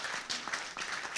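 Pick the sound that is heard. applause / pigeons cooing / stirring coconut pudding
applause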